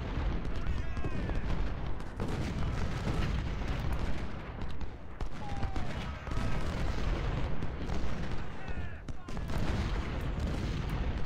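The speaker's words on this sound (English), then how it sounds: "Bring up the Iron Brigade, start firing into Atkinson's flank." Massed musket volleys and booming artillery fire from the Civil War video game Ultimate General, in a Fredericksburg battle, roll on continuously as a dense, loud din of crackling shots and deep blasts.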